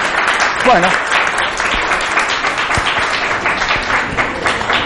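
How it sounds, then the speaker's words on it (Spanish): Steady applause from a crowd, with voices talking over it throughout. "muchísimas gracias por los aplausos"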